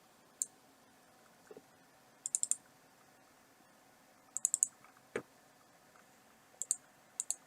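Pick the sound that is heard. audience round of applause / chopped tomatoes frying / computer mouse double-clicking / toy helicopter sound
computer mouse double-clicking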